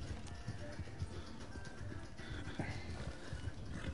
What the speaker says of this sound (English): Taylor, control your horse.